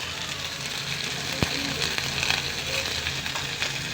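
Green chillies and curry leaves sizzle steadily in hot oil in a pan, a constant crackling hiss with small pops and a faint clink of a utensil, no talking.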